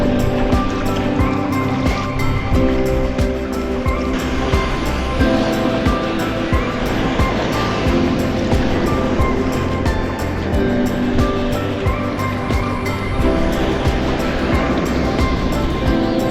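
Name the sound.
waves breaking on reefs during ebb stream, sea kayaking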